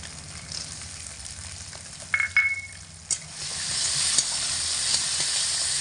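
Chopped tomato and raw peanuts fry in a pan with drumstick, potato and pumpkin, a steady sizzle with occasional scrapes and clinks of stirring that build into a louder hiss toward the end.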